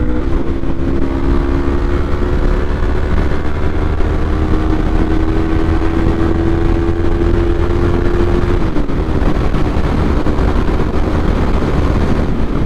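A motorcycle fitted with a newly installed aftermarket exhaust drones steadily on a ride, its engine note holding level and then dipping slightly near the end, loud and continuous with no talking.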